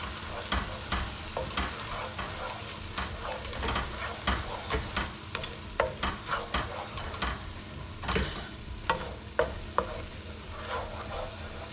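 Coconut, spices and curry leaves toasting in oil for a Malvani shrimp curry, with irregular spoon scrapes and stirring knocks over a soft continuous sizzle and no voices.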